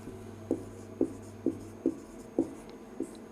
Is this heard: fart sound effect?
no